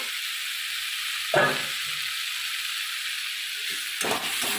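Onion stalks frying in a pan for a Bengali fish jhal hiss with a steady sizzle, and two louder bursts come as they are stirred. No one speaks.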